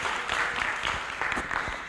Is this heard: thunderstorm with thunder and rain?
no